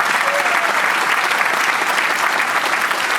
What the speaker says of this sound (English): Please give the governor a round of applause.